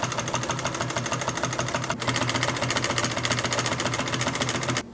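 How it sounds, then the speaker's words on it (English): A Consew 339RB-4 walking foot sewing machine stitches steadily up close, a fast even mechanical chatter that runs for the whole stretch with a brief hitch midway, no voices over it. "Sometimes I'll pull one of the needles and just use it like a single needle machine to sew up a blind stitch."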